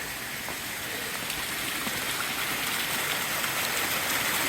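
Steady, dense rushing of a gushing mountain stream beside the Appalachian Trail, close and loud, a continuous watery hiss with no pauses and no voices.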